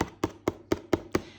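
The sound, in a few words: thick coloring page being tapped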